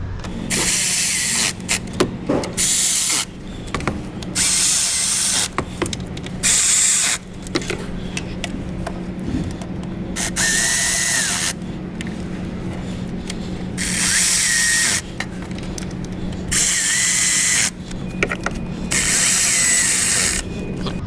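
Power tool snugging valve cover bolts on a Ferrari F430, heard as a series of sharp, loud whirring bursts, each a second or two long, separated by short pauses over a faint steady hum.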